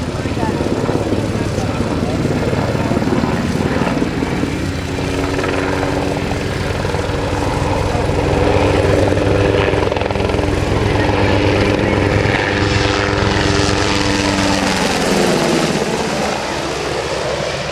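A twin gas turbine military helicopter makes a fast, low speed pass at an air show, a loud, continuous rotor and turbine roar that swells and shifts in pitch as it goes by, with a voice talking over it.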